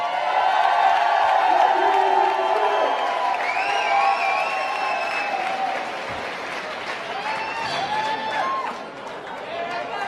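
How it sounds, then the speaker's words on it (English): Crowd applauding and cheering for Miranda at a CrossFit Open announcement event, loud sustained clapping with whoops and scattered voices throughout, easing slightly near the end. "Let's give Miranda a round of applause."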